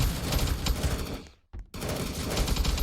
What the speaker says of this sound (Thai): ทำไมได้ยินเสียงปืนแต่ไอ้พวกนี้มันยังไม่ทันได้ยิงเลยนี่นะ